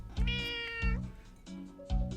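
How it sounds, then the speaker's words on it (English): A cat meows three times in a row, close and fairly loud, each call drawn out with a wavering pitch and short pauses between, with no talking over it. "That was a cat."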